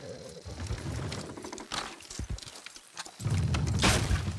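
Horses pull a load in Red Dead Redemption 2, hooves clopping in uneven bursts with mechanical creaks and strain, fairly close and moderately loud, no talk over it.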